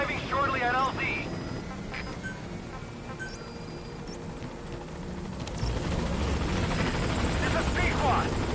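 Pequod helicopter from Metal Gear Solid V arriving at a landing zone, its rotor drone loud and steady throughout and swelling near the end, with radio voices and game sounds mixed in.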